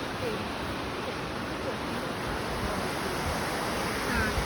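Waterfall in the Alcantara gorge in Sicily, heard as a steady, dense broadband rush of falling water that continues without pause from start to end.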